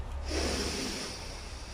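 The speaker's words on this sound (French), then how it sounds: "Je t'invite à inspirer par le nez" A long, deep breath drawn in through the nose during a yoga breathing exercise, a close, steady airy rush that swells and then slowly fades, heard alone.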